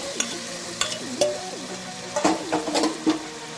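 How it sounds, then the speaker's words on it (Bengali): Marinated paneer fries in its own mustard oil in a nonstick pan, with a soft continuous sizzle and several sharp scraping, stirring strokes of a spatula against the pan at irregular intervals. "সেই তেলে এগুলো ফ্রাই করে নিচ্ছি"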